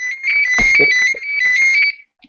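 A phone ringtone plays loudly and close, a bright warbling melody that runs for about two seconds and then stops abruptly.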